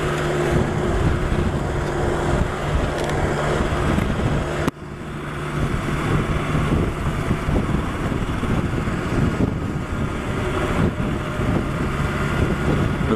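A 2020 BMW S1000XR motorcycle engine drones steadily under heavy wind rush on a test ride, loud and continuous with a brief dip partway through, no talk.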